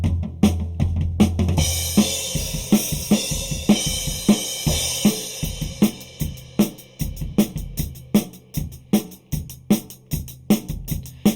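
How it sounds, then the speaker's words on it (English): Full drum kit picked up by a pair of Neumann KM184 overhead microphones, with a slightly distant snare, cymbal wash and steady kick hits playing a driving rock beat, loud and alone with no talk. "Now that overall slightly more distant snare sound that comes from the overhead sounds absolutely amazing"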